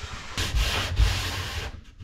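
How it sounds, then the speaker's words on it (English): A wooden fo'c'sle door aboard a wooden boat is hand-sanded along a chamfer. The close, loud, scratchy rubbing comes in a couple of back-and-forth strokes. "hoping that that combined with a little sanding on the dado on the other door will create just the right"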